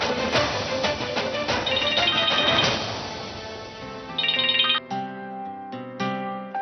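A mobile phone ringtone for an incoming call plays alone, a bright repeating melodic electronic tune with tonal chimes that shifts pattern partway through and continues to the end, loud and close, in a Hindi TV drama scene.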